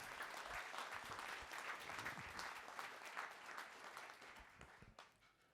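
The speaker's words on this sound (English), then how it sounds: "So give yourself a hand of applause, please." An awards-ceremony crowd at a civil rights champions gala claps warmly, a busy patter of hands that gradually thins and fades toward the end.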